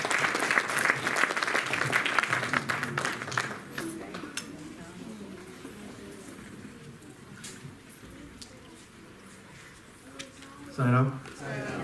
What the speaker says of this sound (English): So let's, with a round of applause,